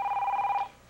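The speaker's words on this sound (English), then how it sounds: "Let me get the phone." A telephone rings once indoors: a short, steady electronic ring, clear and alone, cutting off after under a second.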